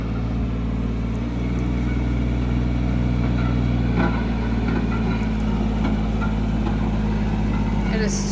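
A tractor engine rumbles steadily at close range in a tight space, a low constant drone with faint clanks and the sound of people working nearby.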